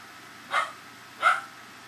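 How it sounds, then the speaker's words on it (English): A female dog barks twice indoors, two short, moderately loud woofs about three quarters of a second apart over a quiet room background, with no talk. "And that would be my dog barking."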